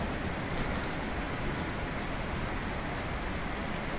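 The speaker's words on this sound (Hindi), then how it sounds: "लेकिन बारिश शुरू है, बार बार बारिश आती रहती है" Steady rain falls near Bagsu waterfall outside McLeodganj in Himachal Pradesh, a dense, even hiss of drops close by with no pauses and no voices.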